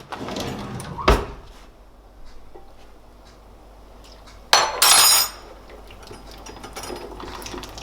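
Cutlery rattled while someone rummages for a large spoon, with a sharp metallic clatter early on and a longer bright jangle of utensils midway amid quiet kitchen background.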